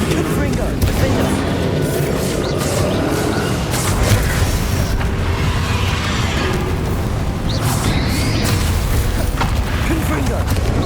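Confringo fire spell blasts in Hogwarts Legacy combat, a dense run of booming bursts and pops over constant game noise, with a voice talking throughout.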